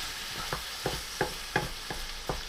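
Garlic and drained canned black beans sizzle in hot oil on lowered heat, with six evenly spaced stirring scrapes over a steady frying hiss and no voices.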